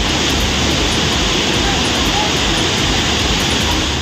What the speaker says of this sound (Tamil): இதனால் வெள்ளி நீர்வீழ்ச்சியில் தண்ணீர் ஆர்ப்பரித்து கொட்டியது